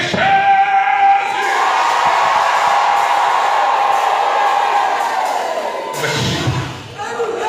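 A church congregation shouts and cries out together in a loud, sustained roar of many voices that swells, holds, then breaks apart near the end.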